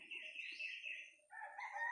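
A rooster crows twice in a row, the calls loud and fairly close, with faint background noise.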